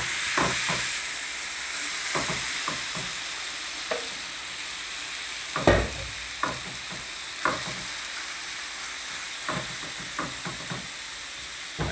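Marinated chicken for butter chicken fries in a pan with a steady background sizzle, while a spoon stirs it in intermittent scraping strokes, one louder clatter midway, close and without talk.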